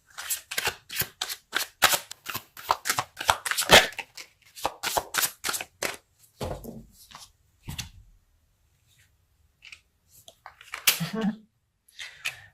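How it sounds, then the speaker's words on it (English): Tarot cards shuffled by hand, a rapid run of crisp close riffling snaps for several seconds, then a pause and a few scattered card flicks and slides as cards are pulled. "We're going to pull a need to know card next."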